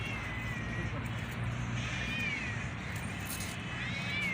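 A cat meows twice, faintly, over a steady low hum of background noise.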